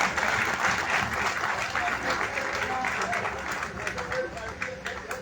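Applause from the audience at an award ceremony of a provincial Vaishya conference, a dense wash of clapping that stays loud and steady before easing slightly toward the end, with crowd murmur underneath.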